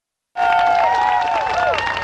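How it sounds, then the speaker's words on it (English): An outdoor Tea Party rally crowd bursts into applause for Barbara: loud, sudden clapping with a few raised, whooping voices mixed in, sustained at a steady level after the abrupt start. "How about a little bit more of applause for Barbara?"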